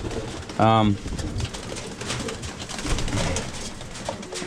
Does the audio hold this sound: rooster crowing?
no